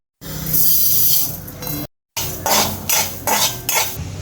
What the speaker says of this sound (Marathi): आता हे सुके मसाले सर्व आपल्याला भाजून घ्यायचे आहेत